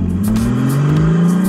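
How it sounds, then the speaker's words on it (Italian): A Pagani Huayra Roadster BC's 6-litre AMG V12 with quad exhausts revs loudly and close, rising pitch sweeping through quick throttle blips. "12 cilindri, 6 litri, più di 800 cavalli. È un motore AMG realizzato su specifiche di Orazio."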